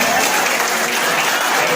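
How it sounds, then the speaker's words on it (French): Dense crowd applause fills the hall at a student eloquence day in Bouhou, honouring a young speaker; steady and loud throughout the short stretch, with faint voices mixed in. "vos applaudissements s'il vous plaît"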